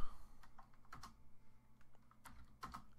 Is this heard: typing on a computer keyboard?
yes